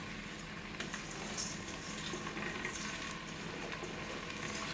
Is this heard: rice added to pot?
yes